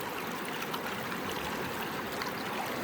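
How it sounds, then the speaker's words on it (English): A river streams past in a steady, close rush of flowing water, even and unbroken, with no voices. "The sound of the river"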